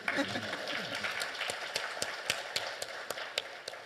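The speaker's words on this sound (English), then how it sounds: "You can applaud by all means." A studio audience claps through a broadcast segment, steady patter with sharper individual claps standing out, while a voice talks over it.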